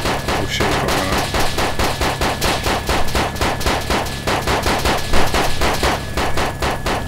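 Rapid automatic gunfire in the game DayZ, loud and close, with dense rhythmic bursts of shots sounding almost continuously throughout.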